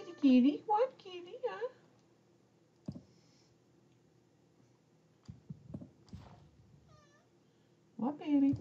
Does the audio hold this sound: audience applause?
no